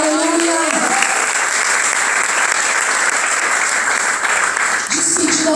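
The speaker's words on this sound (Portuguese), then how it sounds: "Aplauda o Senhor, aleluia." A church congregation breaks into sustained, dense applause that fills the room throughout, with a preacher's voice heard briefly at the start and near the end.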